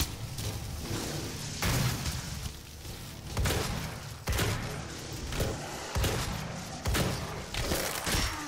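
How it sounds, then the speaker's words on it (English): Shotgun blasts in DOOM SnapMap boom out one after another at a steady pace, about six heavy, loud shots spread over the clip with game noise between them. "Back to the shotgun."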